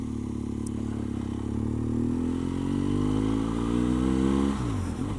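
A BMW R1200GS motorcycle pulls away up a steep hill, its engine note rising steadily through the revs before easing off as it shifts gear, heard close and continuous with no talk.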